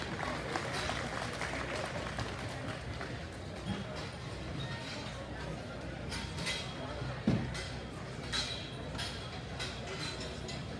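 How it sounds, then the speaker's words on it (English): An audience at a junior crossbred gilt livestock show in Arizona gives a round of applause, scattered clapping under an announcer's voice in a large arena. "Let's pay them off with a round of applause."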